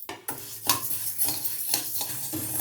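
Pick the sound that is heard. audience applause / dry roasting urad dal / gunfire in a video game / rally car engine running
dry roasting urad dal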